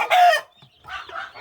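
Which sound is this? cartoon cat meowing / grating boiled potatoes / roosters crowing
roosters crowing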